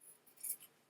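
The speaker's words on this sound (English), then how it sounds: "then we will take our scissors" A single quiet, brief snip of scissors trimming a paper seam during quilt piecing for a fabric table runner, heard alone in a still room.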